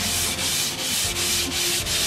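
Steady rhythmic sanding on an end table's wood veneer, each stroke giving a loud, close, gritty rasp in an even back-and-forth pattern with no talking.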